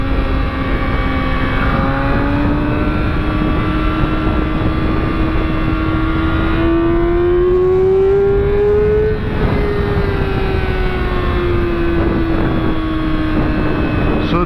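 A motorcycle engine warms up at idle as one continuous droning hum, steady and close, with the pitch drifting slightly upward midway and then settling back down.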